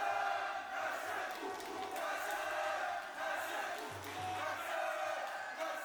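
A large crowd at a caged MMA fight roars and cheers steadily throughout, a dense wall of voices with swells of excitement.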